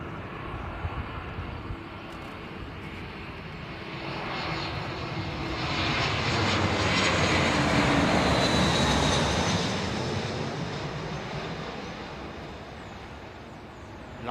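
An airliner on approach to land at London Heathrow passes overhead with flaps being set, its broad engine roar swelling from a distant rumble to a loud peak midway and then slowly fading, with no talk.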